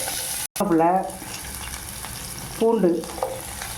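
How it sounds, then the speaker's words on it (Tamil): Chopped onion and green chillies sauté in oil for a tomato kuzhambu, giving a steady, close, loud crackling sizzle that runs throughout, with a brief cut near the start and two short squeaky stirring scrapes. "வெங்காயம், பச்சை மிளகாய் போட்டு நம்ம இது நல்லா கொஞ்சம் எடுத்து வரும்."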